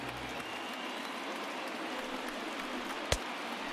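A baseball stadium crowd of over 36,000 cheering and applauding as they rise to their feet in the ninth inning, a steady distant roar with a single sharp crack near the end.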